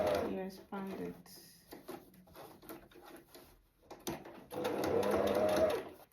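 A sewing machine stitches a skirt in short bursts of whirring, stopping and starting close by, while a person talks over the stitching.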